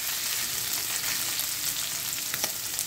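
Boiled soybeans fry in hot oil with salt, giving a steady, fairly quiet sizzle with faint crackles and occasional stirring scrapes, without any voices.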